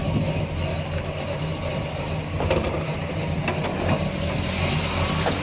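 A 1967 Pontiac GTO tribute engine idles steadily with a low, rumbling burble, moderately loud and continuous, with no one speaking.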